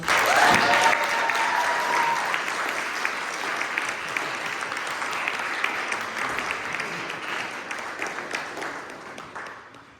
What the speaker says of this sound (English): Let's give all our members who performed another round of applause.